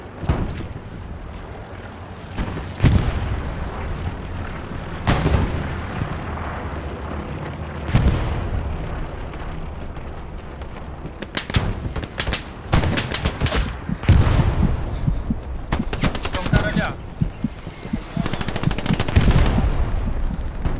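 Gunfire in the World War II shooter Hell Let Loose: repeated rifle shots and machine-gun bursts, some sharp and near, others distant, with booming impacts scattered throughout.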